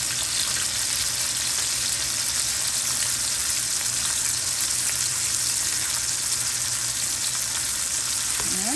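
Steak frying in a hot pan with butter, garlic and thyme, a steady loud sizzle running unbroken throughout with no talk.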